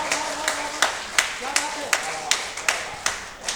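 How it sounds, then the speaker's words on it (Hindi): An audience at a Hindi poetry gathering claps in a steady, even beat, with about nine sharp, close claps landing at regular intervals while a voice carries faintly underneath. "श्रोतन सो जोरदार तारी बजवइयो जी"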